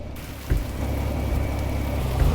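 Rain in the truck driving game Truck Simulator Big Rigs, a steady broadband rushing patter that starts abruptly and holds even and fairly loud, with a low rumble underneath.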